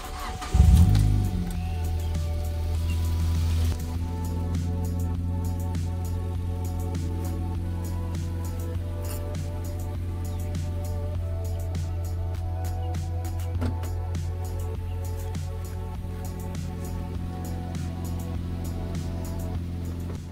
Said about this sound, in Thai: สตาร์ทเครื่องฟังเสียงเครื่องกันเลยดีกว่าครับ